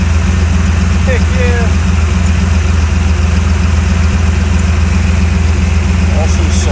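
Chevrolet C10 square body pickup truck idling after a radiator and electric fan swap, a loud steady low rumble with constant cooling fan whir, while someone speaks briefly over it.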